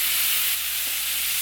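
Thinly sliced ripe tomatoes dropped into a hot pan of cauliflower masala, giving a brief steady bright sizzle and hiss close up, with no talking.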